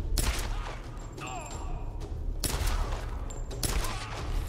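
Automatic fire from an AK-style rifle in the Tomb Raider video game, several loud close bursts of rapid shots in quick succession with dense rattling impacts.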